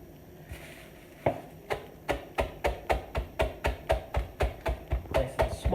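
A knife chopping onions on a cutting board for a loaded potato cheese soup, with quiet handling first and then a steady run of close, even chops, about fifteen in a row.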